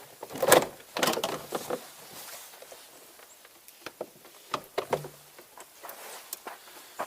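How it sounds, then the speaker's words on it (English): A door panel is taken off a 2009–2014 Ford F-150 pickup during a side mirror replacement. Close, fairly quiet clunks, knocks and plastic rattles come in scattered bursts, with short gaps of near silence between them. "now we take the door off"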